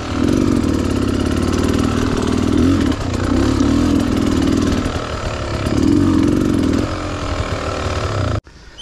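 Dirt bike engine labouring up a rocky hill trail, a loud continuous mid-pitched drone that surges and dips with the throttle before cutting off abruptly near the end.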